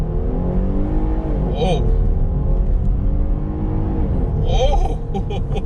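A 2021 Dodge Durango SXT Plus engine revs hard and climbs in pitch as the vehicle accelerates, close and loud, with a short exclamation from a voice near the end.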